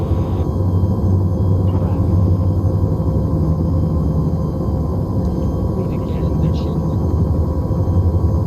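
Chinook helicopter in a video game, a loud steady rotor drone and low rumble filling the whole stretch, with faint radio-like voices and chatter over it.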